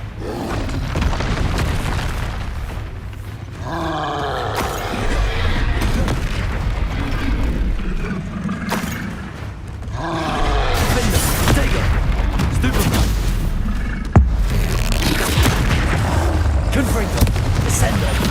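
Confringo explosion spells firing in Hogwarts Legacy, heavy booming blasts in repeated bursts over a dense game soundscape, with a character's voice speaking between them.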